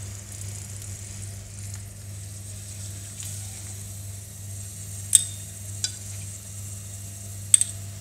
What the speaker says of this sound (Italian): aggiungo uno spicchietto d'aglio tagliato a metà e lasciamo imbiondire l'aglio e profumare l'olio